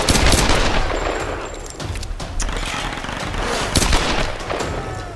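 Rapid bursts of gunfire in Tomb Raider Definitive Edition on hard difficulty, loud and dense with sharp cracks and booms running nearly continuously, no talk over it.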